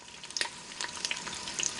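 Eggs fry in the pot of a Ninja Foodi XL pressure cooker steam fryer, giving a steady, fairly soft sizzle with scattered crisp pops and crackles and no voices.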